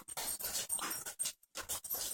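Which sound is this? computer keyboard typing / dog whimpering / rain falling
dog whimpering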